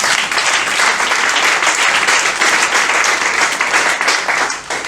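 A church congregation bursts into loud, sustained applause and clapping, a dense steady roar that fills the room for several seconds before easing slightly at the end.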